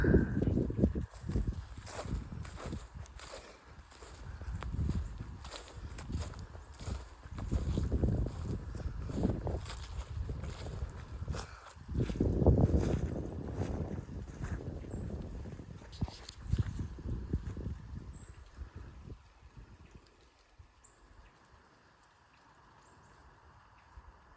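Outdoor wind gusting in bursts against the microphone, with rustling that fits small leaves flapping nearby, rising and falling over about twenty seconds before easing off.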